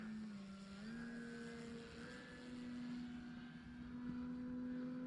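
An E-flite Carbon Z Cessna 150 RC plane flies overhead, its electric motor and propeller giving a steady, fairly loud drone whose pitch shifts slightly as it banks and changes throttle, with no talking.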